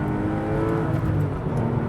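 An older Porsche 911 engine drones and revs steadily during a drive. The loud, rich mechanical tone is heard from inside the car without anyone talking.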